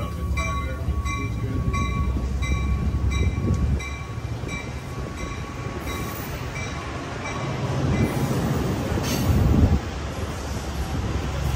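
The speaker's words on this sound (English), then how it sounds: "and there go that train off to Sacramento" Amtrak Capital Corridor passenger train pulling out of Oakland Coliseum station bound for Sacramento, a steady loud rumble of rail cars and wheels rolling along with faint squeals and wind, no talking.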